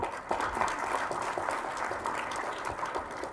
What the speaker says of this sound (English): A huge round of applause to the Professor P.K. Gupta sir